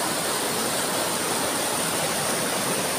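Steady broadband rush of water pouring over a newly built rock waterfall in a river, big boulders dropped in to form a lorry crossing; continuous, close and even throughout with no talk.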